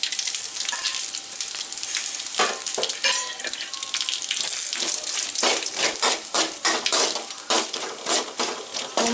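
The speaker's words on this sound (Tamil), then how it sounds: "சீரகம் வந்து நல்லா பொரியணும் எண்ணெயில்" Cumin, fennel, cardamom, cinnamon and cloves frying in hot oil for a village-style crab gravy, giving a loud, continuous close sizzle with stirring scrapes throughout and no voices.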